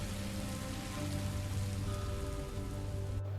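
Steady rain pours in the Minecraft Story Mode game world, a dense, even hiss of drops hitting surfaces with a faint low hum underneath, continuous and close with no voices.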